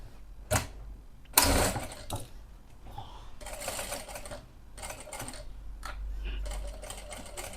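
A sewing machine stitches kurti fabric in short bursts of quick rattling clatter, separated by pauses, fairly faint, with a voice talking between runs.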